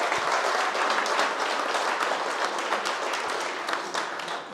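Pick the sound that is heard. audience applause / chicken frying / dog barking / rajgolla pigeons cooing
audience applause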